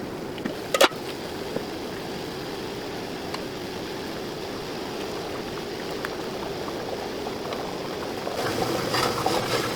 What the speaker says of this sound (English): since our water is already boiling